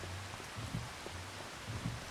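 Rain falls steadily in a farming video game, a soft, even hiss with faint low rumbles pulsing beneath it.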